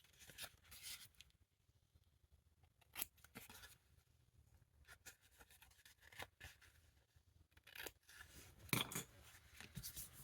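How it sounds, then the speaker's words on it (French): Scissors cutting the corners of a cardboard box at 45 degrees give quiet, crisp snips and rustles, scattered irregularly with a few sharper closing clicks, close up and alone. "vous allez couper vos angles à 45 degrés et à ras"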